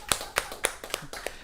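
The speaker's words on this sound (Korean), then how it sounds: "박수." A handful of quiet hand claps land at a loose, uneven rhythm, sparse enough to come from only one or a few people rather than a full crowd.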